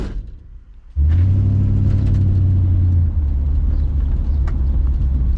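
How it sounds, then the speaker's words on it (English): A 1962 Chevy Impala's engine rumbles loud and close while it cruises, kicking in abruptly after a quiet moment and holding a steady deep drone. "the first drive continued some more as I cruised my 62 over to Long Beach"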